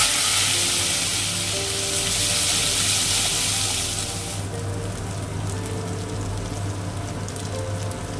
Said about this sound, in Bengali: তেলে তেজপাতা, শুকনো লঙ্কা, গোটা গরম মশলা ফোড়ন দিয়ে দিলাম